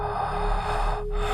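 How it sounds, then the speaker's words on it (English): A single soft, raspy breath is drawn and let out close by in a quiet space, lasting just over a second with no talking. "The breathing sound came first."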